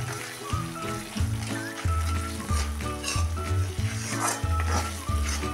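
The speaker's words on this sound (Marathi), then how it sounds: "हे पण आता मसाल्यामध्ये चांगले आपण परतून घेऊया" Onion-garlic chutney sautéing in a spice masala sizzles steadily while a spatula stirs and scrapes the pan, with background music playing underneath.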